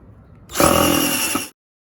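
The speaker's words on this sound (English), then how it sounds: "now I'm going to screw it up into place, and that should seal it against that bead." A power drill drives screws to fix verge trim into place against a sealant bead, a single loud whirring burst of about one second, close up and alone.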